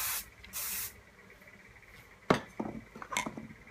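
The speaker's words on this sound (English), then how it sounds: "I'm going to spray first." Two short hissing bursts from a spray can, up close, followed by light clattering and handling noises.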